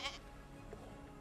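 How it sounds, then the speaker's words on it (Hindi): A goat bleats once near the start, a short nasal cry close by, followed by quieter background sounds. "ये बकरे की आवाज कहाँ से आई?"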